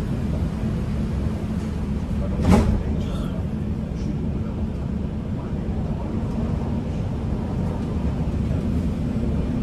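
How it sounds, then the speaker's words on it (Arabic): Dubai Metro train departs after its doors close, a steady low rumble and hum of the carriage heard from inside, with a brief sharp clunk early on and a muffled announcement voice beneath. "Doors closing."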